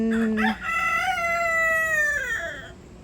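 A single loud rooster crow rings out close by on a farm in Japan, drawn out and wavering before trailing off, against quiet ambient noise.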